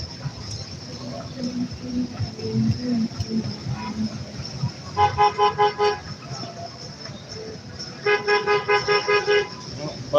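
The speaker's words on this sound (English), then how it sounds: "Honk all you want, I guess he was thinking. But yeah, the bus wants to move." A bus horn sounds in repeated bursts of short, rapid honks, two insistent volleys amid street traffic, with a person talking over the scene.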